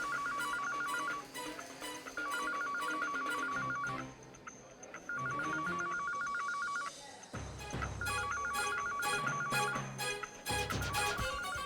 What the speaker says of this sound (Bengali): রিং তো এই করিডোর থেকেই শোনা যাচ্ছে